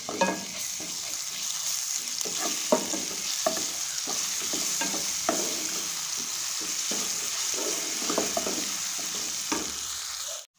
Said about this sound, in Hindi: अब हम इसमें लहसुन और अदरक का पेस्ट डालेंगे और इसको भी फ्राई कर लेंगे